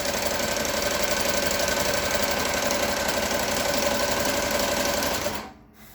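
A Melco EMT 16x embroidery machine sews a satin stitch on a patch, a loud rapid mechanical chatter of needle strokes running steadily and then stopping abruptly near the end.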